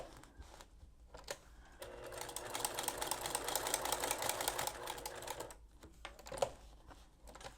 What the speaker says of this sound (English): I'm going to top stitch all the way around